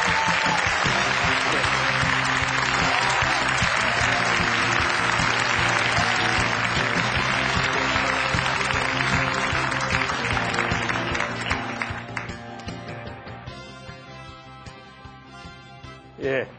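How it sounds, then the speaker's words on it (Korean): Lecture-hall audience applauding to welcome a speaker, dense sustained clapping that fills the room, then thins out and fades with a final few claps. "여러분, 어윤대 위원장님을 힘찬 박수로 맞이해 주십시오."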